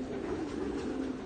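A pigeon hen coos softly in a low, throaty murmur at a pigeon auction, one short continuous call heard close and alone, with no talking.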